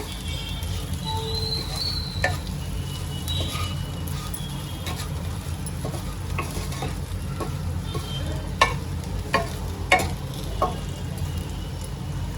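Okra sabzi stirred in a pan after roasted peanut powder goes in, with a steady low sizzle and scattered clicks and scrapes of the spoon, a few sharper knocks near the end.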